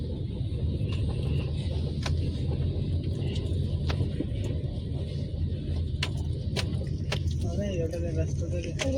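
A car carrying a family with children pulls away and turns around on a village road in Devgad, Konkan. Its low engine rumble runs steadily throughout, with people talking inside the car.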